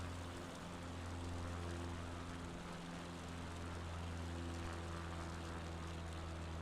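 A propeller plane's engine drones in a flight simulator game during a bush-flying leg over the Apennines from Preturo to Celano, a steady, close, unbroken hum with a low tonal buzz and no talking.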